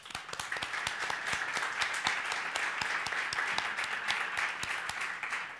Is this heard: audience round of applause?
yes